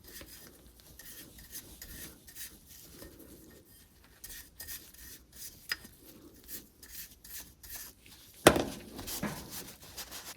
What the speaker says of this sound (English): I'll wipe it down, and then I will switch to the nylon brush.